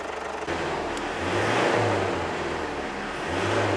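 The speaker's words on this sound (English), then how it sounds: "we just run the engine for 2 or 3 minutes just to check how well it's running" 2010 Ford Ranger (Mazda BT50) 3.0L diesel engine idling steadily with a low, continuous rumble and faint whir, heard up close and alone with no talk.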